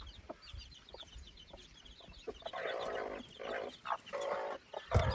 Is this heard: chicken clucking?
yes